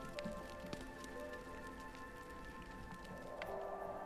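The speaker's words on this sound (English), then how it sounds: "I think they're getting some rain" Steady rain hiss across a village in The Universim, a continuous broad patter with faint in-game tones and soft clicks layered over it, no voices.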